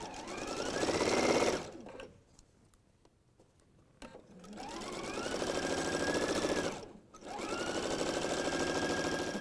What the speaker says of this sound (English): I've just gone and sewn that seam at 3/8